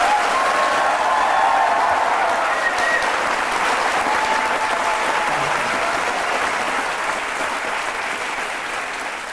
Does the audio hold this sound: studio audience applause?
yes